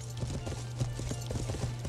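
Steady, rhythmic hoofbeats of a courier horse galloping in the medieval game Life is Feudal, a continuous clip-clop at close range with no talk over it.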